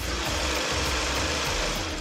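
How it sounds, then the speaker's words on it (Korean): A Kia K7 gasoline engine idles with the hood open, a steady close, even hum with a faint low pulse and no knocks or belt squeal, heard alone without talk. "엔진 소음을 담기 위해 본네트를 한번 열어봤는데요. 영상으로 엔진 소음 한번 담아보도록 하겠습니다."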